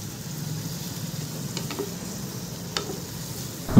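Chopped broccoli stirred in a frying pan at home, a soft, steady sizzle with a few scraping strokes of the spoon, close and moderately quiet, ending in a brief louder knock.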